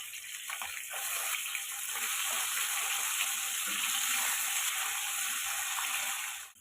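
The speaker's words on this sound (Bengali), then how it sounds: "তেল গরম হয়ে গেলে নুন হলুদ মাখানো মাছের পিসগুলো দিয়ে দিচ্ছি।" Tilapia fish pieces rubbed with salt and turmeric fry in plenty of hot mustard oil in a kadai, giving a steady, loud, continuous sizzle with no talking.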